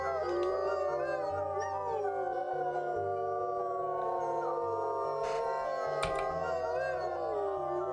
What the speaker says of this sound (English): We'll give one more howl together as a pack